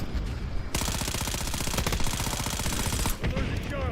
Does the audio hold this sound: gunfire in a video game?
yes